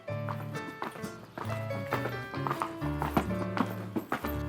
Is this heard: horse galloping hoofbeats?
yes